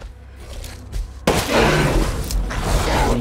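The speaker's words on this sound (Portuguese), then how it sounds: "Tiro." An M1851 revolver fires in the video game Resident Evil Village: after quieter thumps, a sudden loud shot bursts in and leaves a long, booming, noisy tail.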